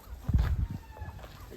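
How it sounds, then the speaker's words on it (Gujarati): Kadaknath rooster on a village farm giving a short burst of low clucking, close by and fairly loud at first, then fainter broken calls over quiet background. "એને કડકનાથ કુકડા છે."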